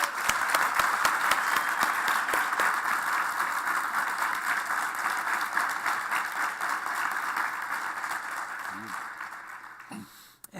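A studio audience applauds to welcome guests onto a talk stage, steady dense clapping that holds for around ten seconds before tapering off, with a brief voice near the end.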